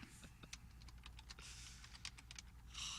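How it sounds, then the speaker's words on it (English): Quiet, rapid clicking of keys on a computer keyboard, heard faintly in the background of a room with low hum, with no voices. "And the typing could be ASMR back there too."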